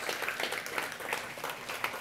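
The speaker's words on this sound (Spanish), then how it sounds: "demos un aplauso a los que hoy día han dado este paso" A church congregation claps together at the close of a service, a steady wash of applause at moderate distance that continues throughout with no voices standing out.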